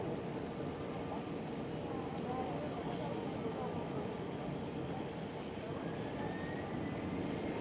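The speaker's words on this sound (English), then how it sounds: "Safely landed on runway 27 of Schiphol Airport." A KLM Cityhopper Embraer E195-E2 jet lands on runway 27 at Amsterdam Schiphol Airport, its engines a steady, even roar with broad rushing noise throughout, no voices.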